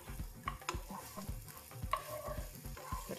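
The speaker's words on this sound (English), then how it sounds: "now I'm just going to fry this up very quickly, because our aim is to soften the courgette and get a caramelized glaze on the onion" Courgette and onion frying in oil, a soft continuous sizzle broken by repeated stirring scrapes and clatters of a utensil in the pan, close and fairly quiet with no voices.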